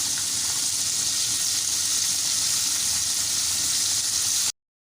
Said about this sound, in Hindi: दो पीस हम डालेंगे, और ये तकरीबन 5 से 6 मिनट लेंगे और अच्छी तरह फ्राई हो जाएंगे